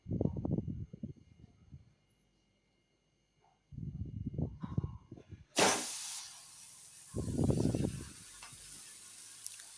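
Talk pauses, then an oiled thalipeeth flatbread hits a hot griddle with a sudden loud sizzle that settles into a continuous hiss under more talking.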